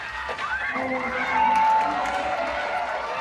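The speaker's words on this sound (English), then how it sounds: "this Utah State Fairground crowd letting her hear it. A major roar out here at X Games SLC" Crowd at the X Games Salt Lake City women's skateboard park contest at the Utah State Fairgrounds roaring and cheering, loud and swelling at the midpoint, with an announcer talking over it.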